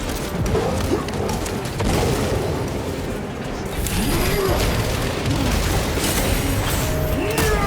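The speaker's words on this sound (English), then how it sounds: "Throwing frag grenade." A frag grenade detonates in the Warhammer 40K Space Marine 2 video game, a heavy boom buried in a dense, continuous din of gunfire and combat noise that fills the whole stretch at steady loudness.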